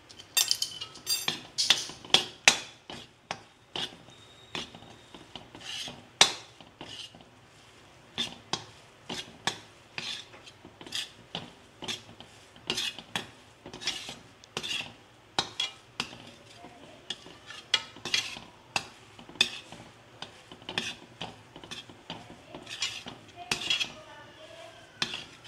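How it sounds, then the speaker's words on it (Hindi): A spoon scrapes and clinks against a metal pan while coconut ladoo mixture with a few drops of pink food colour is stirred, a busy irregular run of close, bright metallic taps and scrapes with no talk. "और उसे अच्छे से मिक्स कर दीजिए।"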